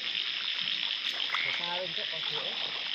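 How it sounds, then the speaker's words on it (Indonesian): Frogs croak in a rice paddy at night, a few short pulsing calls standing out over a dense steady chorus of insects and frogs, fairly close, no talking. "Oh ini ada kodoknya yang kawin guys."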